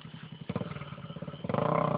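Dirt bike revving as it is freed from mud on a trail, the engine sputtering in short pulsing bursts that grow louder and faster toward the end, close by.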